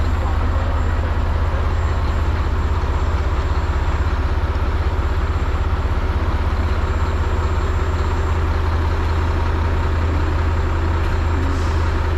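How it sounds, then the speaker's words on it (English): A Mack roll-off truck idles steadily while loading a roll-off box, its constant diesel drone and hum continuing loud and unbroken, with no talking. "he's going to show you just real quick on how the roll-off box, how it picks it up and removes it"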